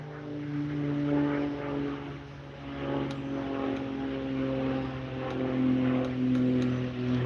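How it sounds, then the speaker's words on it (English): Low-flying aircraft passing overhead outdoors, a steady droning engine hum with strong low tones that swells and eases gently, continuous and fairly loud with no talking. "So we've got some low flying aircraft going over."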